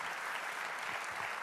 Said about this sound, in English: Let's give Danae a round of applause.